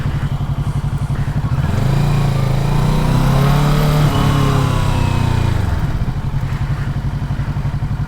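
A 2020 Kawasaki Ninja 650 motorcycle is ridden close to the microphone. The engine putters at a low, steady idle pulse, then revs up and holds a higher, sustained tone for several seconds before dropping back to idle.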